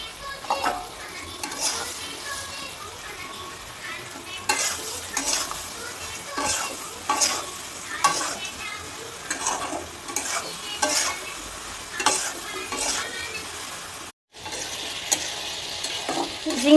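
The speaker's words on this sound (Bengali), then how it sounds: "ঝিঙেও ভাজা হয়ে গেছে" Sliced ridge gourd frying in a pan with fried potatoes, salt and turmeric: a continuous oily sizzle broken by repeated scraping and clinking stirs of a utensil against the pan, fairly close and without talk.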